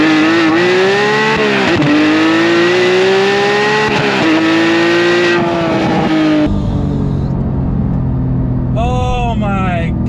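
A Porsche GT3 Touring accelerates hard through a bend with a loud, close engine wail whose pitch climbs steadily, then drops away after a shift as the revs fall, with a voice speaking over part of it.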